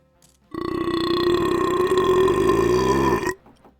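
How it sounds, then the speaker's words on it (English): One long, loud, powerful burp, about three seconds of deep, sustained, rumbling tone that starts abruptly and cuts off sharply, heard alone. "That is a powerful burp, good sir."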